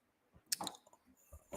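Typing on a computer keyboard: a few sparse, irregular key clicks, close and quiet, with short pauses between them and no talking.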